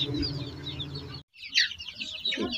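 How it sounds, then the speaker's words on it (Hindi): Sonali chickens and small chicks feed on a farm in Jharkhand, with soft clucks and chirps near and far over a busy, steady background. "यहाँ देखिए किस तरह सोनाली मुर्गी अपने दाना को चुन चुन कर खा रहा है।"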